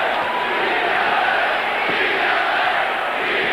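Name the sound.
Boston Garden basketball crowd chanting "Beat LA"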